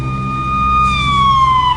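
Loud, close ambulance siren holding a sustained wailing tone that slowly drops in pitch as the vehicle passes.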